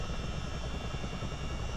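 A CH-47D Chinook twin-rotor helicopter in Microsoft Flight Simulator, on an Alaskan rescue flight, gives off a steady, loud, dense engine and rotor roar that holds without a break.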